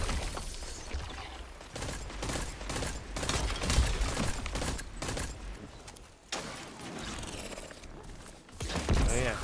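Rapid gunfire in the shooter Destiny 2, dense bursts of shots and impacts crackling almost nonstop at close range, with a brief lull near the middle before the firing resumes.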